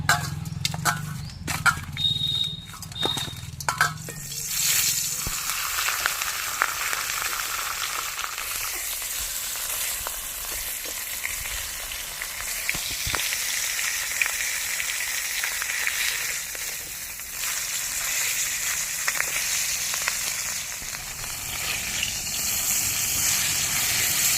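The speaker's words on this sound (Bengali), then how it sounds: "মাছের মাথা ভাজার জন্য মাছের কড়াইতে তেল দিয়ে দেবো" A fish head fries in oil in a wok, giving a steady loud sizzle that runs the whole time, with sharper crackles and spatters near the start and a brighter hiss later on.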